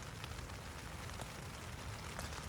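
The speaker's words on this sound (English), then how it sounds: "Look at that rain going now." Rain patters constantly on the fabric of a hot tent on a wet, windy night: a dense, steady wash of drops with a few louder taps, and no voices.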